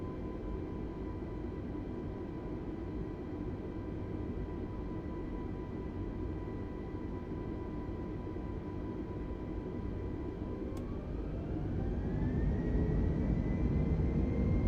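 Airbus A320 engines roar through a takeoff roll in Microsoft Flight Simulator, a steady loud broadband rush whose whine climbs in pitch toward the end as thrust builds, with no voices.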